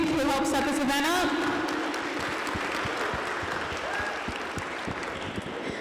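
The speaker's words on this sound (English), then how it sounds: "Can we give a round of applause to all the people in pink who helped set this event up?" A crowd at a high school athletic recruitment event applauds the helpers, steady clapping from many hands at middle distance, with a voice talking over the opening second.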